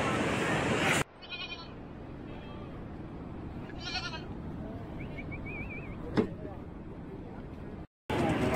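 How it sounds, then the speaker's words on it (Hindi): Shepherds' goats bleat on a cool Himalayan trail in the Johar valley on the Milam glacier trek, a few near, thin calls over steady wind and outdoor bustle, with a voice speaking between them. "यहाँ पर बकरियाँ भी आई हुई हैं चरवाहों की।"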